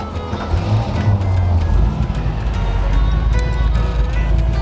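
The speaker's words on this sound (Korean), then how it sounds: "저기 시동 한번 걸겠습니다" A 60-year-old car's engine starts and settles into a deep, steady low rumble, close by, with some talk nearby.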